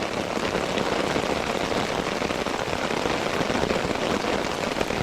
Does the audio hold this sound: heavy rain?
yes